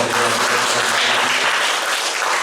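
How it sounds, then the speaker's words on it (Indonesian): A church congregation bursts into loud, dense applause with cheering, sustained clapping filling the room throughout without pause. "Berikan tepuk tangan sorak-sorai"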